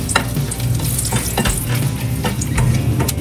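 Bay leaf and whole spices sizzle in melted butter while being stirred, making a loud, steady close frying hiss with scraping stir strokes and a few utensil taps, with no talking.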